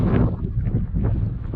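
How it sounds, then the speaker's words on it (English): Wind blowing outdoors on a cold day, buffeting the microphone in uneven low gusts and rumbles for a brief moment. "Sounds hella windy."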